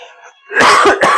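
A person on a podcast recording lets out a loud, close cough in two harsh bursts, following a brief faint stretch of low sound.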